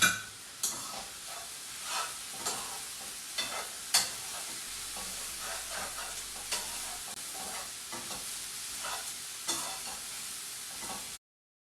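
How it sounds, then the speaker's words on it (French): Chopped vegetables cook in a pan and get stirred, producing a soft sizzle broken by scraping and clattering spoon strokes at irregular intervals. "aller remuer les petits légumes que j'ai coupés et que j'ai mis à cuire"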